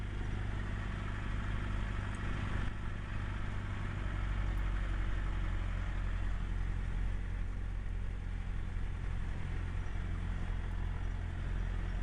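A small airplane's piston engine and propeller run steadily at low power while taxiing, a constant close-up droning rumble with no voices.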